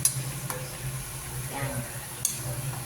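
Spicy chicken adobo bubbles and sizzles softly in a pan, a faint steady simmer with a few light clinks and stirring sounds.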